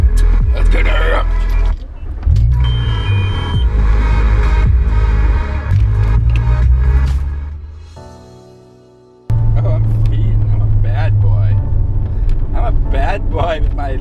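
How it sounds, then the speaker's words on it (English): Loud engine of a Mk4 VW Jetta, a deep throbbing rumble that drops away briefly and then returns strongly, with people talking over it throughout. "Bad boy with my loud motor"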